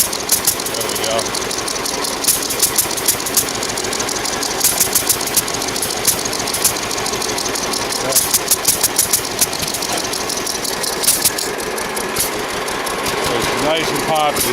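A John Deere B tractor engine idles with a steady, rapid popping chug, loud and close, under light background noise throughout.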